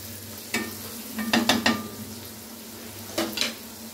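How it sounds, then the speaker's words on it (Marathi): Chopped onion and asafoetida sauté in a hot pan, a soft sizzle under a few close clinks and scrapes of a spoon stirring against the metal. "कांदा टाकलेला आहे, थोडासा हिंग टाकायचा आहे, मस्त असा परतवायचा आहे कांद्याला।"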